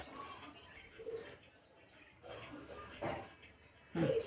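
Pigeons outside give soft, faint coos and a few chirps at a distance over a quiet indoor background.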